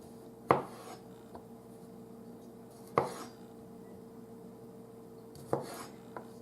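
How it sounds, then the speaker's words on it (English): A knife slicing cherry tomatoes in half on a cutting board, three separate close, crisp cuts spaced a few seconds apart with quiet kitchen background between them. "Now we're going to take our cherry tomatoes and slice them in half."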